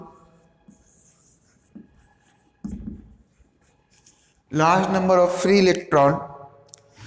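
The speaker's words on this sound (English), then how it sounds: "I am writing only the keywords" Marker or pen writing keywords on a board during a physics lesson on electricity, a few soft scratchy strokes in the quiet opening, followed by someone speaking loudly up close.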